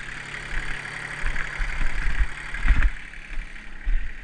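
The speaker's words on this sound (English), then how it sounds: "I don't want you around the tractor when it's working" A farm tractor engine runs close by on a farm, a loud steady mechanical drone with a low rumble that swells and dips slightly, with no talking.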